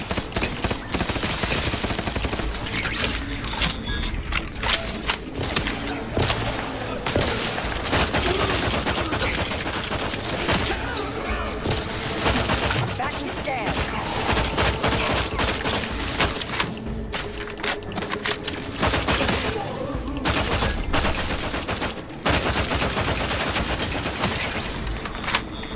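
Sustained automatic gunfire from a companion character in The Outer Worlds 2, dense rattling bursts firing almost continuously at close range with only brief gaps.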